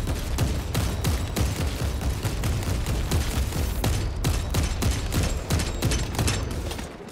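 Dense, continuous gunfire from Warhammer 40K: Space Marine 2, rapid shots and bursts overlapping loudly throughout the clip with booming impacts and no talk over it.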